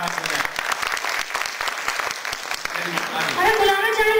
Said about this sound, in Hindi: एक बार तालियों की जोरदार